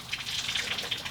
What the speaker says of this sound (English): We're going to now be draining water out of